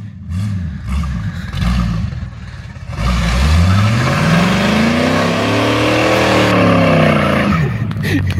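A Camaro revs hard and spins its tires in a burnout, tearing up a yard with a loud sustained roar that climbs and falls in pitch, its engine note dominating throughout.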